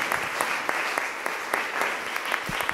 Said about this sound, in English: Let's give a mighty, mighty, mighty, mighty, mighty applause to the Lord.